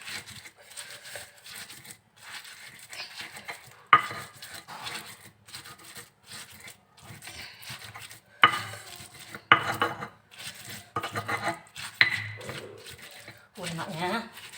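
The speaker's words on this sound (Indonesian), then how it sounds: "Kita giling tempenya yang sudah kita goreng tadi." Fried, overripe tempe is ground in a mortar for sambal, giving rough scraping and dull knocks in bursts while a person talks throughout.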